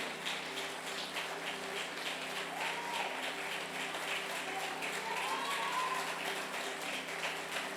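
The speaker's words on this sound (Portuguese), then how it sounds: "Aplaude mesmo, igreja." A church congregation applauding during a service, a continuous patter of many hands clapping at moderate distance, with a voice speaking faintly underneath.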